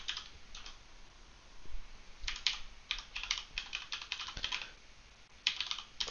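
Someone types a storefront URL on a computer keyboard while setting up Citrix WEM transformer: close, rapid keystroke clicks in uneven bursts with short pauses between them, and no talking.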